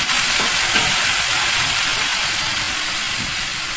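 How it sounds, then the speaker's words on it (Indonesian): Blended spice paste sizzles and hisses steadily in a hot pan, a loud, continuous frying sound with faint stirring knocks underneath and no talking. "yang bumbu yang tadi kita blender, kita masukin dan kita goreng"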